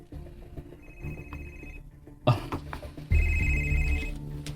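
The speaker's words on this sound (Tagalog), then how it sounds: "Nanawag si Sabrina" A telephone rings in a Cebuano-language TV drama scene. Its ring comes in two clear, fairly loud bursts separated by a short pause.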